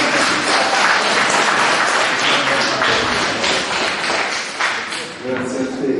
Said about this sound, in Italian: accogliamo con un bel applauso il professor Di Carlo